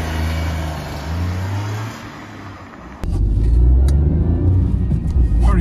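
A 2017 Peugeot 208 1.2 with a five-speed manual idles steadily, then catches and rises to a louder, rougher buzzing run, the engine close by and alone.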